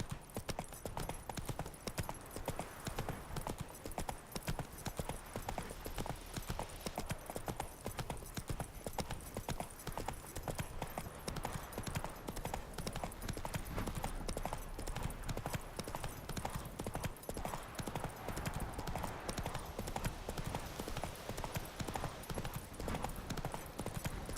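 Roach, a horse in The Witcher 3, gallops with steady, rapid clip-clop hoofbeats and a faint whinny, played loud and close over game ambience.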